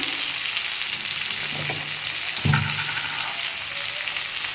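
Beetroot, carrot and green pea curry with spices sizzles steadily in a pan, a continuous close frying hiss with a couple of brief stirring scrapes partway through.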